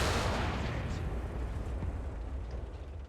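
A Type-60 SPRG recoilless gun fires in War Thunder simulator battle, a deep, heavy boom whose broad rumbling roar fills the moment and slowly fades over a few seconds.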